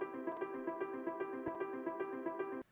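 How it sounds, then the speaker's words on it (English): A piano arpeggio from a software instrument run through an arpeggiator cycles in quick, even repeated notes for a few seconds, then cuts off abruptly; no voices. "that's also where we add this piano arpeggio"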